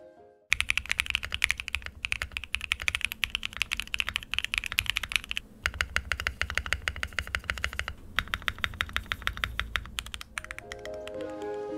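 Steady typing on a Mode 65 mechanical keyboard fitted with Domikey ABS keycaps, close and clear, with rapid continuous keystroke clicks, brief pauses and heavier thock-like presses near the end.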